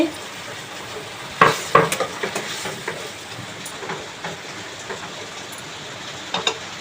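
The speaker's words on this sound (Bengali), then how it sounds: "ডিমগুলোকে দিয়ে দিচ্ছি।" Eggs land in a hot pan and start frying, giving a few sharp crackling bursts followed by a soft, steady sizzle with scattered pops, fairly quiet and close.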